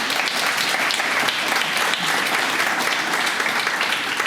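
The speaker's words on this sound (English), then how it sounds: "and you can clap for that." Dense, steady applause from an audience at a grand opening celebration for a housing community, continuous and fairly loud throughout with no break.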